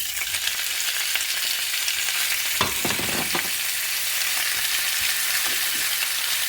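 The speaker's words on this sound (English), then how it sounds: "We're putting back our meat. We have a little bit of oil" Beefsteak stir-fries in a little oil in a pan, giving a steady, bright sizzle throughout, with a short burst of utensil scrapes and stirring in the middle.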